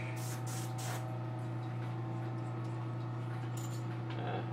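Aerosol can of matte varnish sprayed over a painted Lola Bunny figure's hair, a steady close hiss in short bursts layered over a constant low hum, with no talking.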